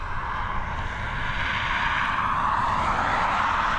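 A Ryanair Boeing 737 climbs out of Dublin Airport bound for Vienna, its jet engines giving a loud, continuous roar that holds steady and swells slightly, with no voices.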